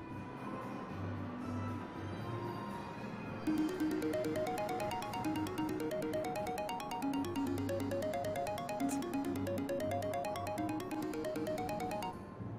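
A mobile phone ringtone plays a repeating electronic melody, fairly clear and steady for over ten seconds, with faint background sounds underneath.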